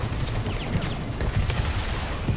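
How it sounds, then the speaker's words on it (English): Battle gunfire rattles in rapid, overlapping bursts against a dense, rumbling background of explosions and chaos. The sound is loud and continuous throughout, with no speech. "The sound of gunfire, explosions, and tearing metal weave together into a chaotic cacophony"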